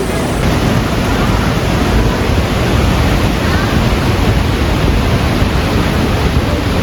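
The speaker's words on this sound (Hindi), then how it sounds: "ये माना विलेज का सरस्वती नदी है दोस्तों।" The Saraswati river at Mana village flows as a loud, constant broadband rush of water that stays close and steady throughout, with no voices.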